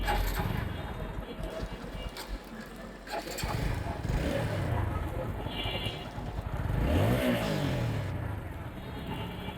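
A 160cc 4-valve motorcycle engine idles and revs unevenly nearby, rising and falling in pitch, with a muffled voice talking faintly underneath; the engine makes noise when cold.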